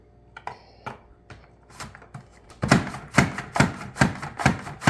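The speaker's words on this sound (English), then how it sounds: "Just chopping up them carrots" Carrots being chopped by hand on a board, a few scattered knife taps at first, then a steady run of sharp, crisp close-up chops.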